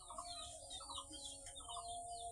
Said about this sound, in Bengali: চট কবুতর, ইন্ডিয়ান চট কবুতর।